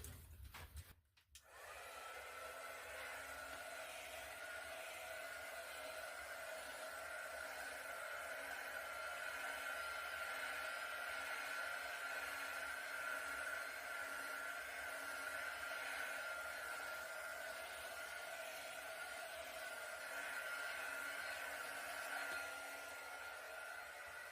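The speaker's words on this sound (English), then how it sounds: "I'm just going to hit it quickly with a heat gun" A heat gun blows hot air over acrylic paint in a Dutch pour. After a brief click at switch-on, a steady whooshing motor hum with a faint whine runs on evenly for over twenty seconds.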